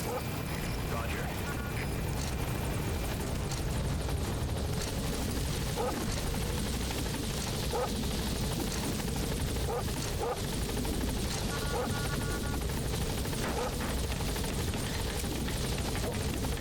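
A helicopter in Metal Gear Solid 5 climbs with a steady rotor and engine roar that fills the whole stretch, joined by brief game effects and faint voices.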